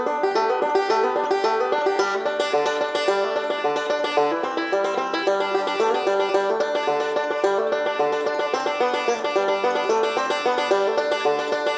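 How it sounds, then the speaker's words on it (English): A soloed banjo track, recorded with three microphones, plays a steady, bright rolling pattern of plucked notes from a rock song's chorus, alone and continuous throughout. "he added this banjo, which let's just solo the banjo."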